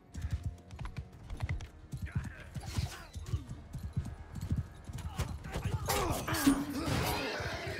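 Horses gallop across a medieval battle in a video game, with rapid, busy hoofbeats running steadily under the clash and din of combat, fairly quiet overall and without talk.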